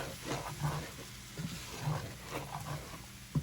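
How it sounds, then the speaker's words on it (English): Chicken curry gravy is stirred in a pot, producing soft scraping strokes over a faint simmering sizzle, quiet and close, with a small knock near the end. "just make sure that you stir it really well so it doesn't become lumpy, the gravy that is"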